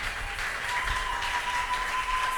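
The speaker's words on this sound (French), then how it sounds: "Est-ce que tu peux l'acclamer très fort?" A congregation in a church service claps steadily at a moderate distance, a soft continuous patter of applause throughout.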